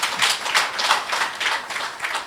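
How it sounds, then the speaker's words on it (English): Conference audience applauding after a healthcare sector presentation at an investment conference in Bulawayo, steady rippling claps in repeated swells across the short stretch, moderately loud and without speech. "Let's give him another round of applause."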